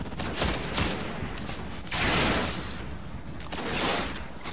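Gunfire in the video game Destiny on PS4: loud, dense bursts of rapid shots fill the whole clip, swelling and easing in waves with brief lulls between volleys, with no talking over it.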